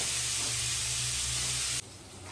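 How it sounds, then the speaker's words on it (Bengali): Boiled chickpeas and potatoes frying in a pan give a dense, steady hiss with a low hum beneath, close and constant before cutting abruptly to quieter room tone near the end, no talk. "সেদ্ধ ছোলা আলু ভাজা হচ্ছে।"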